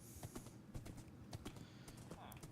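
Horse hooves clop in an online survival video game, a steady run of soft clicks close by with faint background noise.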